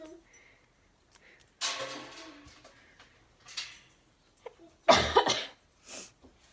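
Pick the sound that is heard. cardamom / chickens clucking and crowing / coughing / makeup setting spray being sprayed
coughing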